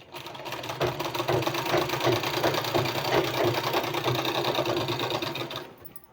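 A sewing machine runs steadily for about five seconds, stitching palazzo pants in fast, even rhythmic clatter, close and loud, with no talking, before stopping abruptly.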